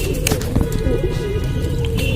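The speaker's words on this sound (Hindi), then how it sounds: "ये एक सिंगल कबूतर सेल के लिए है" A single pet pigeon for sale in a Lucknow keeper's home loft coos in low, throaty bursts close by, repeating over a steady background hum.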